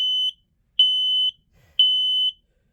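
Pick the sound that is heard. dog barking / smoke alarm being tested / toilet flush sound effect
smoke alarm being tested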